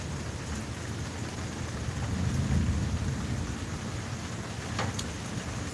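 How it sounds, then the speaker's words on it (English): Rain pours steadily onto surfaces nearby, a dense constant patter with a low rumble swelling around the middle like distant thunder, and a few sharper drip ticks, no one speaking. "It's raining on me."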